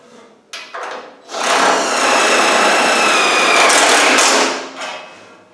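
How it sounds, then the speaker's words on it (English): A power driver sends screws through spot weld holes into a vehicle bulkhead, with a sustained whirring burst of about three seconds after short taps, heard close and loud. "So through the spot weld holes, we're just going to screw one or two."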